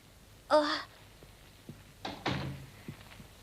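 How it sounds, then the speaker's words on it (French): A door swings shut in an animated scene, making a soft thunk that is followed by a couple of light knocks and bumps, heard close in a quiet room. "ferme la porte"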